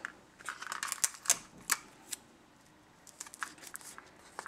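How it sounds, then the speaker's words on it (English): Adhesive tape pulled off a roll and pressed down while wrapping lace and trim for storage, a few close, sharp crackling rips and dabs, then quieter scattered clicks. "And then you're gonna tape it again."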